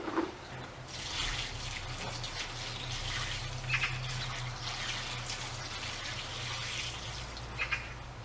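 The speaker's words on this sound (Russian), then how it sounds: "Теперь даем возможность сбежать водички, чтобы ее там не было." Water drains out of an orchid pot after watering, a soft continuous trickle with faint dripping, quiet and steady over a low background hum.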